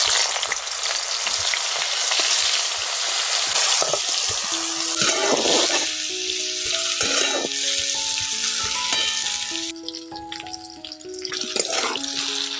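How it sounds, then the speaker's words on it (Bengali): Cauliflower florets frying in hot oil give a loud, steady sizzle throughout, with the clatter of stirring, while a melody plays over it from mid-clip. "ওই তেলের মধ্যে একটু ফুলকপিগুলোকে ভেজে নিচ্ছে।"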